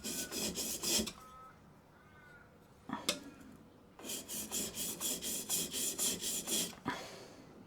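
A blade being sharpened freehand on a stone to remove the burr, with a short series of rhythmic rasping strokes, a pause with faint scrapes, then a longer run of about a dozen even strokes, close and alone.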